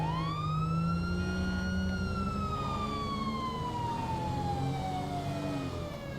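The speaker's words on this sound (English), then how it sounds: "I have no response to lights and sirens." A police car siren in the video game GTA with the LSPDFR mod wails loud and close in one long, continuous sweep falling slowly in pitch, with no one speaking.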